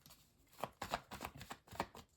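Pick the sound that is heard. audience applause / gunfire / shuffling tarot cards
shuffling tarot cards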